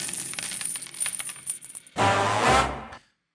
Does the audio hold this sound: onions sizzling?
no